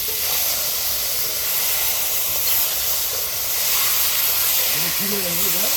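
Marinated duck meat goes into a pan of hot, cooked-down spices, giving a loud, steady sizzle and hiss that fills the scene, with a voice briefly heard near the end.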